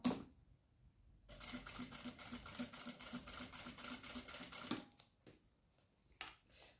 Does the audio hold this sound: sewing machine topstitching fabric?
yes